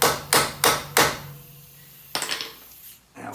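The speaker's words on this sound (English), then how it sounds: "we're gonna have to give it a few hammer smacks" A hammer strikes a stuck strut bolt on a Chrysler Town and Country Braun Entervan: four loud, ringing metallic blows in a steady rhythm, then a quick cluster of lighter taps and one more hit near the end.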